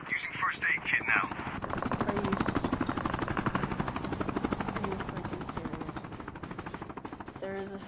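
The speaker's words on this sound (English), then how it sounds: "There is a helicopter." A helicopter in a Call of Duty battle royale match gives off a steady, fast rotor thump that runs through most of the scene, fairly loud and close. Short game sounds come before it, and a faint voice is present.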